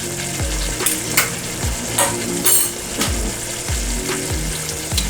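A spoon stirs okra sauce with smoked fish in a pot, making repeated scraping strokes and occasional clinks over a constant close frying sizzle, with no voices.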